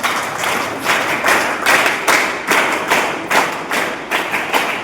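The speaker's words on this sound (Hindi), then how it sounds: "पहले तो जोरदार इनके लिए तालियों से इनका स्वागत किया जाए।" A crowd at an Independence Day event honouring former soldiers claps loudly in a steady, rhythmic unison beat of about ten strong pulses, close and with no talk.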